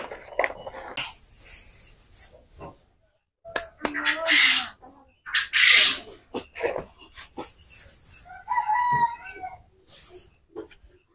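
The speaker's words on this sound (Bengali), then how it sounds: "আমার পাখিগুলো এখন ভগবানের আশীর্বাদে অনেকটাই সুস্থ আছে।" Chickens on a poultry farm let out clucks and calls, some loud and close, alongside other bird and animal noises, while people talk in between.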